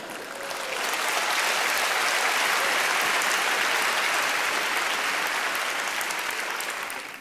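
Sustained, loud audience applause fills a televised French political debate, a dense wash of clapping swelling in quickly and holding steady for several seconds before easing off at the end.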